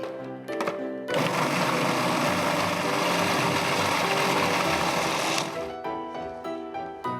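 Food processor whizzing a dip of raw vegetables with pepper and salt into a fine puree, a loud steady motor whir lasting about four seconds, framed by short clunks before and after.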